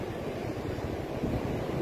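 Waves washing onto the long, wide stretch of Bhatye beach mixed with steady wind, a continuous broad rushing roar at moderate level with no distinct breaks and no talk.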